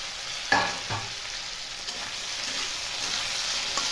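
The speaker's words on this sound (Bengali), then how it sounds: "এরপর আমি কেটে রাখা পটলটা দিয়ে দিচ্ছি।" Chopped pointed gourd frying with salt and turmeric in a pan, a soft steady sizzle with a few stirring clinks near the start, close and fairly quiet, no voices.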